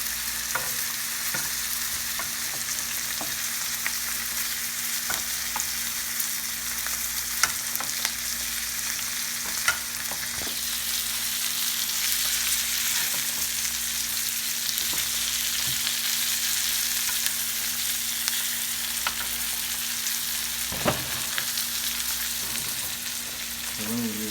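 Filet mignon fries in butter with garlic in a pan, producing a continuous close sizzle with occasional spatters and utensil scrapes throughout.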